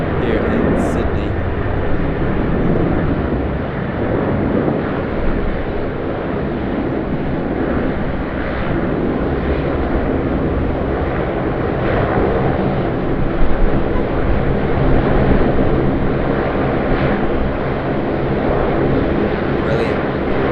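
A Qantas Boeing 737-800 airliner rumbles on runway 25 at Sydney Airport, a steady, loud jet roar that holds for the whole stretch, with wind buffeting the microphone.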